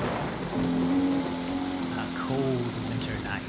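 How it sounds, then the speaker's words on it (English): A homemade thunderstorm sound effect from a kids' movie: steady rain hiss with low rumbling, continuous and fairly loud, under a narrator's voice speaking over it. "the storm comes crashing down on you"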